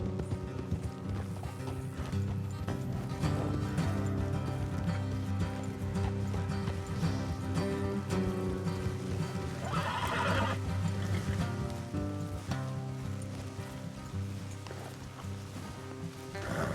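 In the video game Red Dead Redemption 2, horses whinny and hooves clip-clop through a loud, steady mix with music running underneath, no talking.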